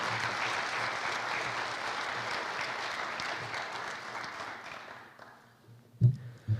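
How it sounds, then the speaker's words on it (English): Audience applause for a 2020 high school homecoming court at a coronation ceremony, steady dense clapping from a crowd that fades out toward the end, followed by a couple of brief thumps. "Let's give a round of applause to the 2020 Castor Manorville Homecoming Court."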